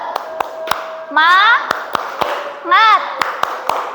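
Indonesian third-grade class performing a rhythmic spirit clap, sharp hand claps in an even beat punctuated by two bursts of children chanting together.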